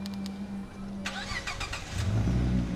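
A new car's engine cranks and catches, followed by a low revving rumble that grows louder toward the end, with a few sharp clicks and mechanical noises at the start.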